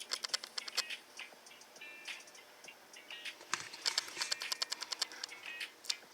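An Epson WF-7820 printer runs through its initial setup, giving off faint, rapid, irregular clicking and ticking that comes in quick bursts, like small mechanisms stepping.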